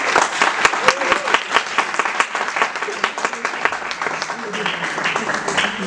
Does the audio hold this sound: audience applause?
yes